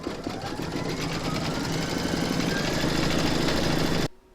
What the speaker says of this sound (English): pop that back into your machine and stitch round number 3, and that's going to secure the fabric and the body to the hoop